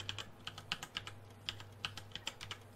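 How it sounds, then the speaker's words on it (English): Typing on a Razer keyboard with silent linear switches: a quick, uneven run of soft, close keystroke clicks over a low steady hum, with no speech. "settled on Razer keyboard. Settled on the silent linear switches."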